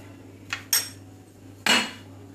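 Lemon and mint are muddled with sugar in a glass. A few sharp knocks and grinding crushes of the muddler come in separate bursts over a low hum, with no talk.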